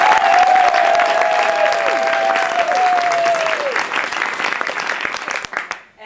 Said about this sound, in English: So we're going to do an applause-o-meter.